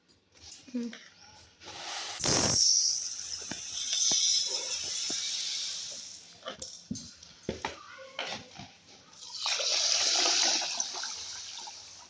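Soaked rice and lentils for bisi bele bath are washed by hand in water, with sloshing, splashing and pouring that rises and falls, and a voice talks intermittently over it.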